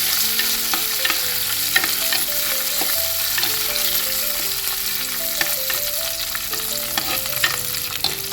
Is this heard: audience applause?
no